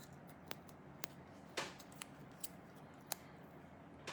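Scissors snipping ribbon in a quiet room, several short crisp cuts spaced irregularly over a few seconds, close and soft.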